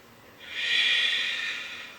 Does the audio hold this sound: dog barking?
no